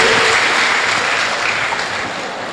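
An audience at a spiritual talk breaks into applause, a dense, loud wash of clapping that slowly tapers over a couple of seconds.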